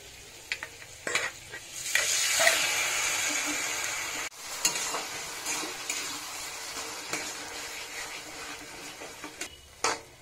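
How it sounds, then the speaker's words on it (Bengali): Mashed eggplant being stirred into fried spices in a pan gives close, steady sizzling with repeated scraping strokes of the spoon and occasional clinks against the pan, without speech. "মশলা কষানো হয়ে গেছে, এর মধ্যে বেগুন মাখা দিয়ে দিচ্ছি।"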